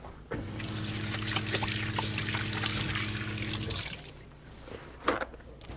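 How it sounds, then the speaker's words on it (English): Hands are washed under a running kitchen tap. A steady stream of water runs for about three and a half seconds with a faint hum, then stops, followed by a few drips and a small clatter. "First, I'm going to wash my hands real quick."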